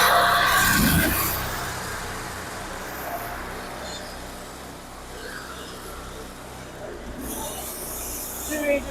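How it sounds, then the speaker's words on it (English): Two engines of an American Jetter 51T Series hot water jetter run together, a steady drone mixed with broad hissing noise throughout, a bit louder at the start and end, with no clear speech. "Two engines running."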